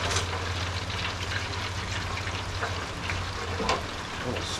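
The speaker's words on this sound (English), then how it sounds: "why am I frying this up outside?" Rockfish and ling cod fillets fry outdoors in hot oil with a steady, close sizzle and crackle that stays even throughout, with faint background clatter but no speech.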